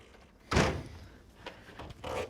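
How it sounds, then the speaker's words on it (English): A Samsung side-by-side refrigerator is lowered back onto the floor with one close, heavy thunk, then a couple of fainter knocks. "You can set the refrigerator back down."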